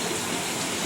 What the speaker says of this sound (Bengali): খুব জোরে মুষলধারে পানি পড়ছে